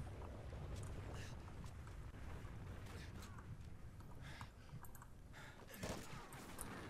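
Rapid bursts of gunfire from Call of Duty: Ghosts multiplayer, dense and continuous across the clip, with sharper cracks standing out near the end against a busy battlefield wash.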